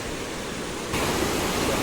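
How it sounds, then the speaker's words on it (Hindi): Broad steady roar of the Alaknanda and Mandakini rivers meeting at the Rudraprayag confluence, a continuous rushing wash of water that swells louder about halfway through. "ये नदी आ रही है अलकनंदा और ये है मंदाकिनी"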